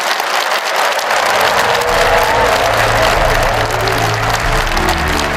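Steady, dense applause from an audience after a presidential speech at a Korean national advisory council event, sustained and loud throughout with no pauses or talk over it.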